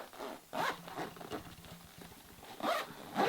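A double zipper on a large jewelry travel case is run around its track in several quick, close, rasping strokes with brief pauses between them.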